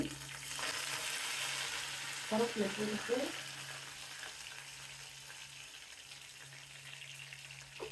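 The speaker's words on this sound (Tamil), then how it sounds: "கறி தாளிக்கிறதுக்கு எண்ணெய் ஊற்றி கடுகு போட்டாச்சு" Mustard seeds sizzle and crackle steadily in hot oil up close, with a short burst of popping and stirring partway through and a faint word or two.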